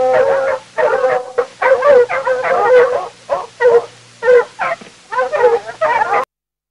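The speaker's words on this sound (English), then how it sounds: "Fox." A fox barks in a rapid series of short yelping calls with brief pauses between them, loud and close, with no voices present.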